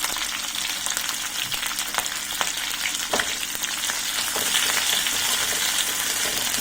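Crushed ginger and garlic sizzling in hot oil in a pan while preparing gobi chilli, a close, continuous crackling fry with occasional stirring scrapes.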